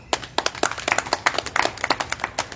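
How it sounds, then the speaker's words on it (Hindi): A small group at a yoga class clapping for a participant, a brisk run of uneven, overlapping handclaps lasting a couple of seconds, close and fairly loud. "उनके लिए तालियां बजाओ भाई"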